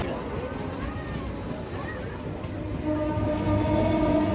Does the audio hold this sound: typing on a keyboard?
no